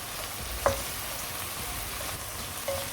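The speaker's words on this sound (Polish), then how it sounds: "na tej samej patelni z tym samym tłuszczem podsmażę cebulę z czosnkiem" Onion and garlic frying in a pan, in the same fat left from browning chicken breast, give a steady, even sizzle with two light utensil clinks and no voices.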